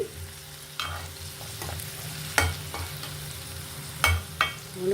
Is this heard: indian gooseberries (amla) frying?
yes